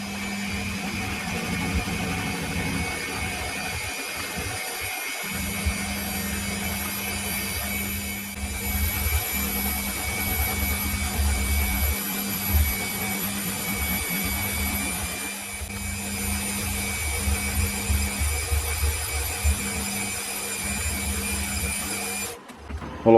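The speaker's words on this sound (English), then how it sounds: "watching me fly cut castings" A milling machine fly cuts castings for a height-adjustable milling tailstock, giving a long, steady mechanical drone with a low hum and brief periodic dips as the cutter sweeps around. No voices.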